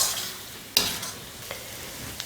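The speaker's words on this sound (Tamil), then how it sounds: "கத்திரிக்காயும் முட்டையும் கிளறியாச்சு." Chopped brinjal and egg are stirred in a hot pan for brinjal fried rice, with a steady oil sizzle and a few sharp scrapes and clinks of the spatula against the pan.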